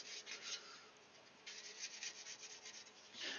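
Fine sanding sponge rubbed over a Tamiya FW-14B scale model, a steady close scratchy hiss in short repeated strokes that swell and fade, with no talking.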